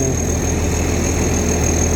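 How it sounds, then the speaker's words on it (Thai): Large Hino JO diesel engine running on a rice harvester, a steady loud idle with a deep low rumble and a faint high whine, continuous throughout. "เราก็ใช้เครื่องยนต์ใหญ่ครับฮีโน่ เป็นเครื่อง JO นะ JO"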